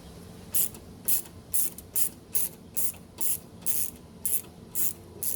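A ratchet loosening 10mm bolts on a Toyota Tundra during an LED install, a regular series of about ten short sharp clicking bursts close by, evenly spaced with brief pauses between strokes, no talking.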